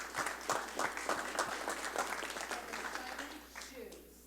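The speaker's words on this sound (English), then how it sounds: "I'd say another round of applause for these great counselors here" Applause from a town hall audience at a city council meeting, a steady patter of clapping that lasts throughout and thins a little toward the end, with a voice briefly audible under it.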